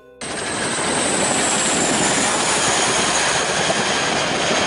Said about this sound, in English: the Boeing CH-47 Chinook is basically a flying forklift